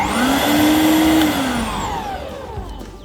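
Loud electric lawn verticutter motor whine with a high tonal hum like a vacuum cleaner, running steadily then slowly winding down, with no voices.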